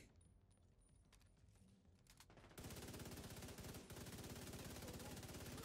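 Automatic rifle fire in The Division 2 combat: after a quieter stretch of movement and faint clicks, a loud, rapid, evenly spaced burst of gunshots erupts and continues close-up, briefly dipping before resuming.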